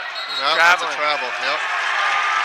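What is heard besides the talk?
home crowd cheering at boys varsity basketball game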